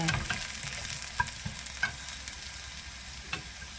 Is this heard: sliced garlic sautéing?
yes